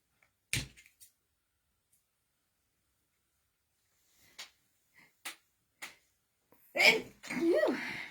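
A person sneezes once, sharply and close by, during a quiet hand-sewing session at home, followed a few seconds later by soft clicks and then a brief burst of speech.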